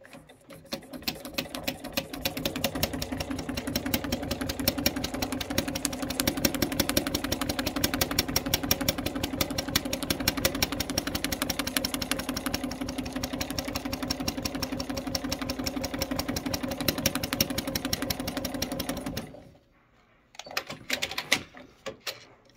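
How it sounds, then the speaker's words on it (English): Sewing machine doing free-motion quilting to tack pieces down on a quilt, a steady rapid needle clatter running continuously for about nineteen seconds, then stopping, with a few brief stitches after. "That's all we're doing with this free motion on this quilt."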